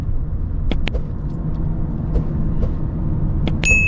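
Steady low engine rumble from inside a heavily loaded Passat running at full throttle with the air conditioning on, chasing a Jeep Renegade 1.3 turbo; a continuous drone with a few brief clicks and knocks.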